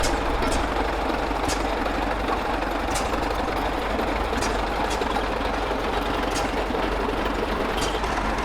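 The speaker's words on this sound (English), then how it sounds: "Here we have a 1921 Best Model 60." A 1921 Best Model 60 tractor engine runs steadily at a steam and gas threshing show, a loud continuous rumble with faint rhythmic ticks recurring about once a second throughout.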